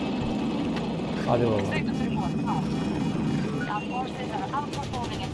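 An attack helicopter in the video game Battlefield 2042 gives a steady rotor and engine drone that runs under a busy game mix, while players talk over it.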